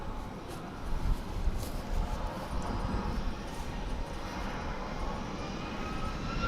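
An Alaska Airlines jet takes off from runway 36 right at DFW Airport, a broad, steady engine roar holding at moderate distance throughout.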